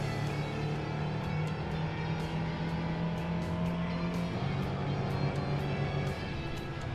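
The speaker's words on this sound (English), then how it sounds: "And here, 1960s mini racing, again lots of fun around Silverstone." A 1960s Mini race car in Assetto Corsa, lapping Silverstone, drones steadily with a buzzing, high-revving engine, loud and close throughout, with small clicks and brief tire scrubs above the constant roar.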